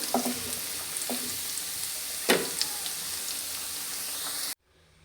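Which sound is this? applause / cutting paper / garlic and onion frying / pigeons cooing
garlic and onion frying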